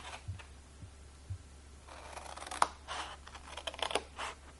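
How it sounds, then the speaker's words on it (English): Crisp snipping and crunching of scissors cutting through paper up close, in short irregular bursts after a few faint taps. "you need to cut out this middle section right here with some scissors"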